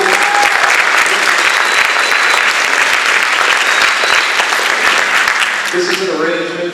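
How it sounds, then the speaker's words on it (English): Loud, dense audience applause for a small jazz group at a jazz camp performance, sustained and steady throughout, then tapering as instruments begin to sound near the end. "How about another round of applause for the small group?"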